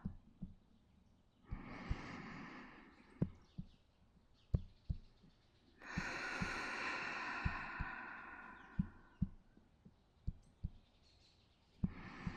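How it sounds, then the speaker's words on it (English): In a lush rainforest setting, slow soft heartbeat thumps pulse at a regular interval while two long, breathy inhales and exhales rise and fall, intimate and close, with faint birdsong in the background. "your heartbeat, and your breath."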